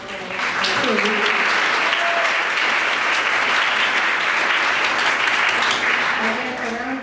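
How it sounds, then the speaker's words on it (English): Sustained audience applause fills a concert hall after a district orchestra performance at an arts festival, dense steady clapping throughout with a few voices faintly audible beneath. "Let's give them a round of applause"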